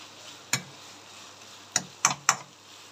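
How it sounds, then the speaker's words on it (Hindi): Four sharp, close spoon knocks against a pan as red chili powder is mixed into tomato qeema: one hit, then a quick cluster of three, over a quiet background hiss. "ये रेड चिली पाउडर डाल के इसको मिक्स कर देंगे"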